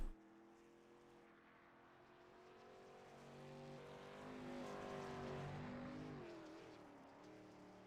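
A whitetail-sponsored Ford F-150 race truck on the Eldora Speedway dirt track rises from faint to a loud, droning engine note as it approaches. The pitch sweeps up and down with throttle changes, then fades slightly.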